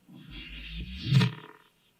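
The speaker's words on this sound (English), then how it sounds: "the kick drum that I reversed and spread and then just put a bunch of effects on it" A washy reversed kick drum swell, spread and heavily effected, builds gradually to a muffled low thump, then cuts off abruptly into silence.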